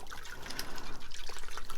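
Fish water poured over the soil-caked roots of a ficus to rinse them, a steady close trickling and splashing that runs unbroken throughout with no talk.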